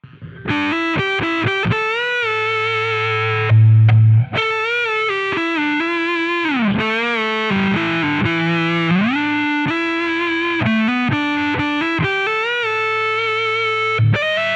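A heavily distorted electric guitar plays a sustained metal lead line with bends and slides, loud and up front, with no voices.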